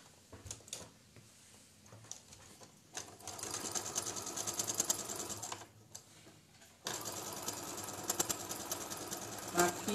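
A sewing machine stitches a patchwork quilt block in steady bursts, its rapid mechanical chatter pausing briefly between runs, close and fairly quiet with light background noise.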